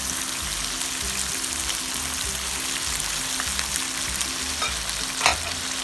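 Fresh crab with fish sauce sizzles steadily in a pan, a dense crackling hiss with a few light utensil taps and a brief clank near the end.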